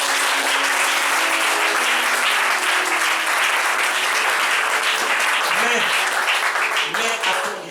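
A church congregation applauds and cheers loudly and continuously, dense clapping filling the room with voices shouting over it and no pause throughout.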